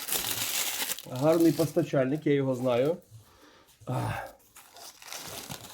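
Crinkly rustling of a 2018 sheng pu-erh tea wrapper being handled and opened, close up, interleaved with someone speaking.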